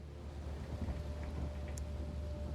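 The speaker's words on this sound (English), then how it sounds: "It's raining, man." Steady rain in the video game The Sinking City, a faint, continuous wash of falling water with a low rumbling undertone, no voices present.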